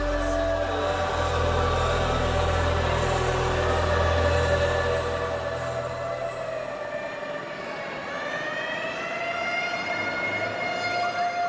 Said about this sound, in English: the ambulance rushed to St. Eunice's clinic in Owerri